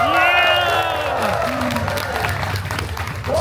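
An audience at a Deadpool holiday story-time show at Disneyland California Adventure cheers and applauds, with whoops and excited voices rising over a steady wash of clapping.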